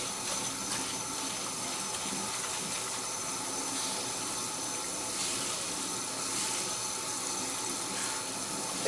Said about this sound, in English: Turn your water on.